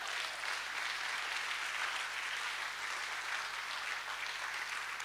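An election party crowd claps steadily, a dense, even wash of applause from many hands holding at the same level throughout.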